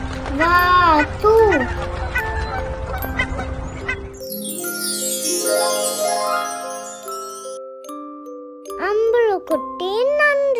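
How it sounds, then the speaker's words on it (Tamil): Animated duck quacking in a Tamil farm-animal children's rhyme, a few short bright calls at the start and again near the end, with a jingling musical tune carrying through the middle. "வாத்து"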